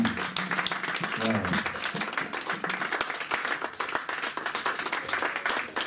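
Congregation in a church applauding, a sustained crowd of dense clapping throughout, with voices cheering and talking mixed in.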